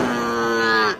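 A cow gives a single drawn-out moo lasting about a second, loud and close, that fades abruptly at the end.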